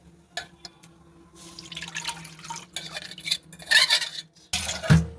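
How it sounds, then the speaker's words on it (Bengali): Milk poured into a metal kadai (wok) while cooking Bengali khirer chomchom, with soft liquid splashes, drips and light clinks of metal and glass building to a louder pour near the end, no talking. "এবার এই কড়াইতেই আবার দুধ দিয়ে দেব।"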